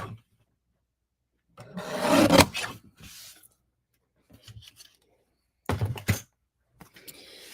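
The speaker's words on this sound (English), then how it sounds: "I'm just going to trim this off on the side" Paper trimmer blade sliding along the edge of cardstock for a Christmas card, heard as a couple of short, close rasping cuts separated by silence.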